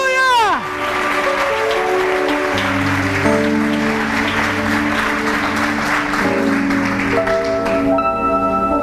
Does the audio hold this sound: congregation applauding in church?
yes